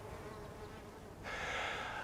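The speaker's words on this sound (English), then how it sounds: "I'm surrounded by mason bees that love this particular wall, and they're really busy and have been for the last few weeks." Mason bees buzzing around a limestone garden wall, a steady insect drone that grows noticeably louder and closer partway through, with no talking.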